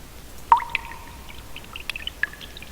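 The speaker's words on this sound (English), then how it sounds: "for the secondary background noise, we're going to make it like drips of water" Sparse water drips for a cave ambience in RPG Maker XP, a sharp plink followed by a few lighter, scattered drops with resonant ringing tails, close and clear over a quiet hiss.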